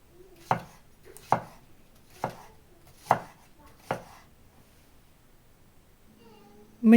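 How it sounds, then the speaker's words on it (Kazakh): Knife cutting tomato into long strips on a cutting board, five crisp evenly spaced chops close by, followed by a short quiet stretch and a brief thud at the end. "Помидорымызды ұзын етіп турап аламыз"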